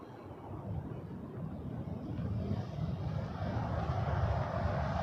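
A Porter airliner taking off from runway 05 at Toronto Pearson: a distant, broad engine roar that swells slowly and steadily across the whole stretch, with no talk over it.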